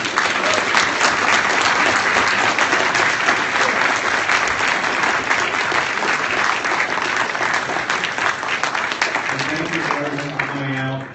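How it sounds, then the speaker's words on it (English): An audience applauds loudly for Ben Shapiro, a dense, steady roar of clapping that holds for the whole stretch before thinning at the end, with voices mixed in near the close. "everyone get a round of applause for Ben Shapiro."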